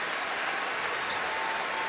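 Arena crowd cheering and applauding at a Kentucky versus Tennessee college basketball game, a steady wash of crowd noise and clapping.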